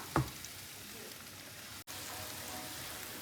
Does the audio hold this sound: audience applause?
no